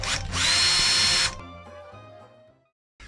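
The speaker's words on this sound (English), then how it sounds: "a pilot was drilled to mark the centre point" A power drill whirs loudly for about a second while drilling a pilot hole in the side of a van, winds down as it spins out, then briefly starts up again.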